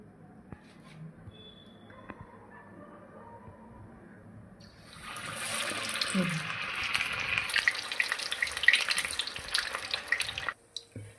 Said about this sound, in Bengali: এবার একটা একটা করে আমি বাটার ফিশ ফ্রাই ভাজতে থাকবো